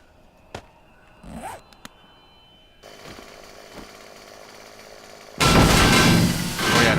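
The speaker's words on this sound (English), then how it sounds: "Oh yeah, no, the chainsaw will go right through" Chainsaw in the 7 Days to Die video game: a few clicks and brief mechanical bursts, then a loud, harsh roaring buzz that starts abruptly near the end and grows, close and dominant.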